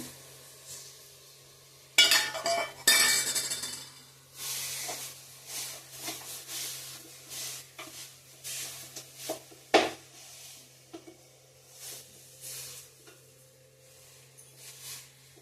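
A paste of ground dates and organic jaggery cooks in a pan, giving a soft, quiet sizzle and hiss. A utensil scrapes and clinks against the metal now and then as the paste is stirred.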